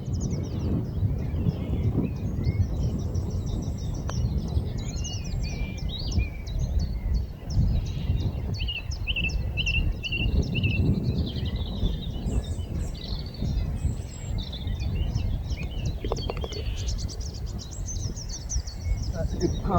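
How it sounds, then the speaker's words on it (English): Birdsong from whitethroat, song thrush and chiffchaff, with swallows over a rural Wiltshire golf course fairway: scattered chirps and trills ride above a steady roar of wind and outdoor background noise. "white throat, song thrush, chiff chaff, swallows skimming over the fairway."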